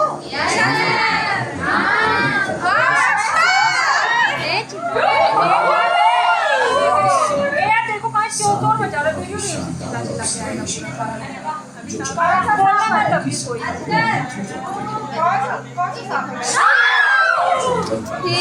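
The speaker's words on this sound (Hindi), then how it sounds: "कितना चिल्लाती हैं लोग।" A loud crowd of people, many of them children, shouts and screams continuously in an outdoor jungle setting, with overlapping voices rising and falling throughout.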